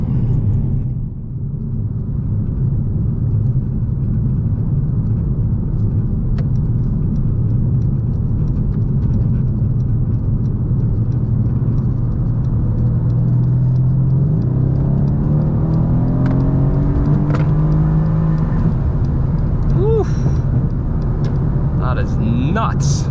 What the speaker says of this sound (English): listen to this beautiful twin turbo 4-liter V8 unleashing maybe not all the 503 horsepower